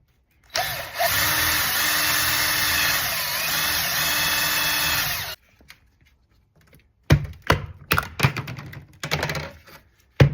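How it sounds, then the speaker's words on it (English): A power drill whines steadily for about five seconds drilling out plastic rivets on a Chevy Cobalt, then stops, followed by a scatter of sharp clicks and clatters of plastic bits and handling. "we have 1 and 2 plastic rivets holding this top piece on. We're going to go ahead and drill those out."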